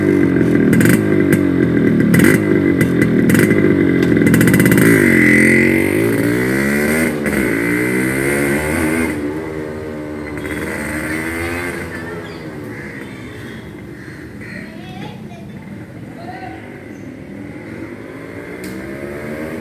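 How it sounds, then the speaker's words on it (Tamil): A Yamaha RX100 two-stroke motorcycle out on a test ride, its engine loud and close at first with revs rising and falling, then the note fades as it pulls away, with a crow cawing at times. "வாங்க இந்த வண்டியை ஒரு டெஸ்ட் ட்ரைவ் பார்க்கலாம்"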